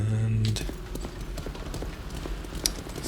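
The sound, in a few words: horse hooves clip-clopping, from video game Greedfall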